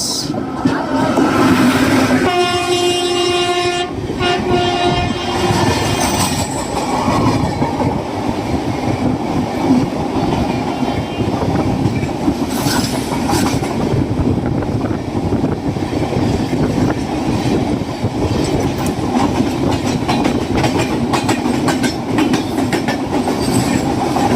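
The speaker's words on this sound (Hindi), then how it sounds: "और ये आ गई अमरनाथ एक्सप्रेस।" An Amarnath Express train pulling into Gorakhpur Junction, a steady loud rumble of wheels and carriages with rhythmic clickety-clack on the rails, a brief horn-like tone early on, continuous and close for the whole stretch.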